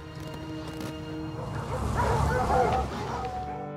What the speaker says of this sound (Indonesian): karena gonggongan anjing-anjing mereka, anjing laut itu pun kabur